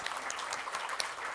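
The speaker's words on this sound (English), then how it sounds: "So can we all really give them a really loud applause?" Brief applause from the audience at the Write India finale at St. Regis, Mumbai, a fairly faint, dense patter of clapping with a few sharper claps standing out.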